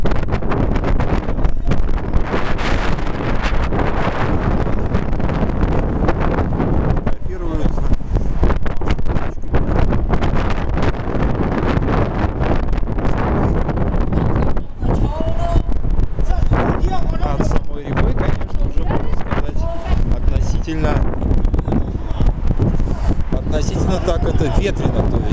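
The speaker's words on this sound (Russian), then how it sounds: "Ветрено, то есть, ну, шляпа у меня хоть привязана, но всегда ветрено как-то" Strong wind on the Bridge of Peace in Tbilisi buffets the microphone in loud, rumbling gusts that never let up, with a voice talking faintly underneath.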